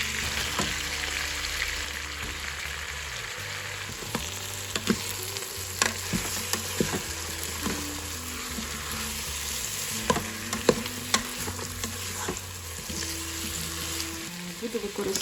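Onion frying in a pan while rice is cooked, a steady loud sizzle that runs throughout, with occasional stirring clatter and a low hum beneath.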